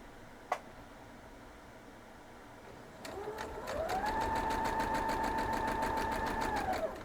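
Sewing machine stitching a quarter-inch seam on a quilt block, starting after a single click and running with a steady, even hum for about four seconds before stopping.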